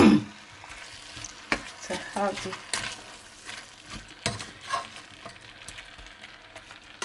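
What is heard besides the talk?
cabbage being stirred and frying in a pan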